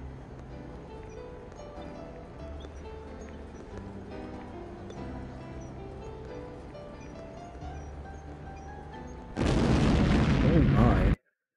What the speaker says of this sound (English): There's been a gas explosion.